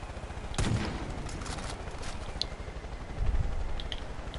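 Gunfire in the video game Far Cry 5, with a few sharp bursts of shots around a dense, busy game soundscape, the loudest burst coming early and another near the end.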